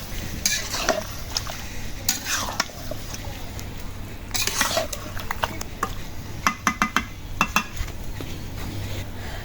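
Spoon scraping and clinking against a pot as a yogurt mixture for a roast is stirred and cooked down, with a low frying hiss underneath, several quick metallic taps near the end.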